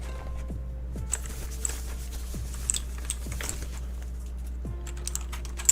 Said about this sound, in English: Ooh, a new clicky clacky keyboard.